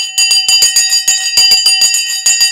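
Stock market opening bell ringing rapidly and continuously, a bright, loud electric clang with a steady stream of quick repeated strikes and no voices over it.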